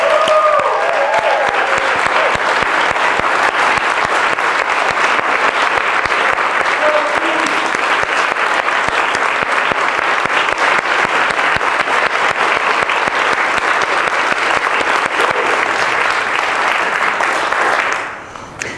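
Sustained applause from an audience at a benefit gathering honours office staff, thick and even for about seventeen seconds before fading quickly at the end.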